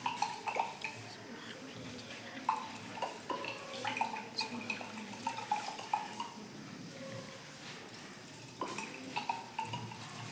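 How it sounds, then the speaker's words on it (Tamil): Water poured and stirred in a container, with irregular clinks of a utensil against the sides and soft sloshing, fairly close and quiet. "தண்ணி ஆட் பண்ணி நல்லா கரைக்க வேண்டும்"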